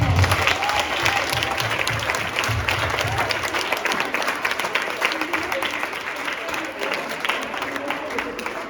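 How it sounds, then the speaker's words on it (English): A large audience at a church youth convention and robing service breaks into loud, sustained applause with crowd noise, the dense clapping holding steady throughout. "Give yourself a huge round of applause."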